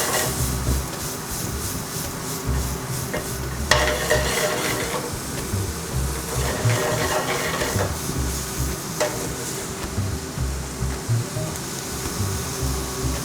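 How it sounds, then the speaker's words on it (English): Short rib tossed in a hot pan for a braised short rib shepherd's pie: a steady sizzle broken by bursts of stirring and scraping as the meat is turned, close up with no talking. "Finally, I'm gonna add in my short rib. So we're gonna give that a nice little toss."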